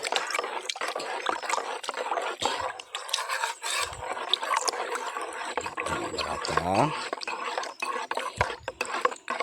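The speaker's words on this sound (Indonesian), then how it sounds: "kita masukkan ke air guys, kemudian diaduk guys hingga rata" Seeds are stirred in a container of water with a repeated scraping, rasping swish and faint trickles of liquid, close by, while a person talks over much of it.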